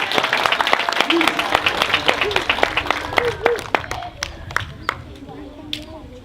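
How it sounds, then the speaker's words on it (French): Scattered, uneven clapping from a ceremony crowd, with sharp individual claps that thin out toward the end, under someone speaking. "Chaleureux applaudissements, Monsieur Berka,"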